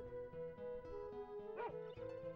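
A dog in the video game Tales of Phantasia gives a short series of yipping barks over steady, tonal game music.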